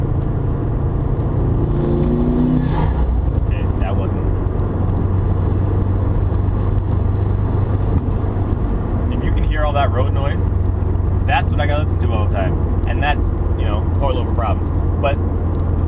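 Steady low road rumble and engine drone fill a Subaru WRX interior fitted with HSD coilovers, with a person talking over it throughout.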